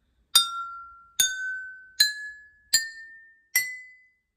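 Five water-filled glasses of a water xylophone are struck one after another at an even pace. Each gives a bright, clear glassy ping that rings out and fades, close and alone with no talking.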